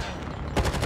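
A CR-56 AMAX assault rifle fires in Call of Duty Mobile, a loud rapid burst breaking in halfway through a short stretch of dense game noise.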